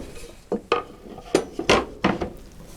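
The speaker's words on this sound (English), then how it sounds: "gently chopping along." A knife chops food on a wooden chopping board in a narrowboat galley, about six distinct close knocks spaced irregularly over quiet background, with no talking.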